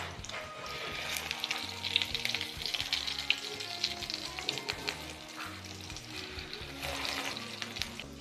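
Potato tikki patties fry in hot oil with a close, crackling sizzle that swells as more patties go into the pan. Light clinks and splashy, watery bursts come and go, with no speech.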